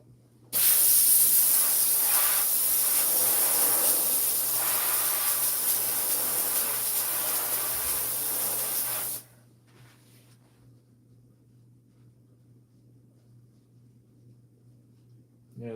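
A handheld clothes steamer hisses loudly and continuously at close range while steaming a hat, then cuts off abruptly, leaving quiet room tone.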